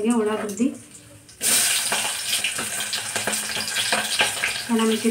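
Sliced onion hits hot tempering oil and sizzles with a loud, steady hiss for about three seconds, with a voice talking briefly before and after.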